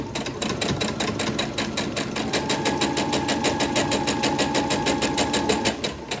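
A sewing machine stitches Prairie Queen quilt block pieces with a fast, even, close mechanical chatter that runs continuously at a steady pace with no talking.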